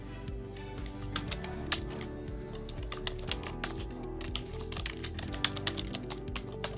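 Steady, rapid typing on a computer keyboard as a name is entered into an Excel sheet, with close, crisp key clicks in a continuous run and no talking.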